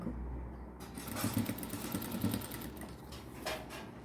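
A sewing machine stitches lace onto the edge of a dupatta, running in a fast, steady mechanical whir that stays close and even, then continues after a brief pause.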